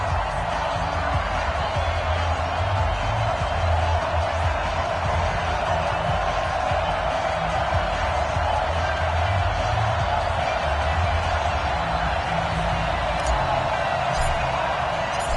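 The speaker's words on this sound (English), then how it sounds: "The enthusiasm of this Cincinnati crowd in full effect a moment ago as their Bengals took the field to the delight of this sold-out crowd." A sold-out Cincinnati stadium crowd cheers as the Bengals take the field against the Cleveland Browns in an NFL game. The roar is steady, dense and sustained throughout, with faint voices mixed in.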